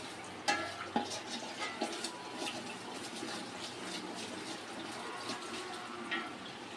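Biryani masala fries in a pot with a faint continuous sizzle and a few soft stirring knocks and scrapes, quiet and close with no talking.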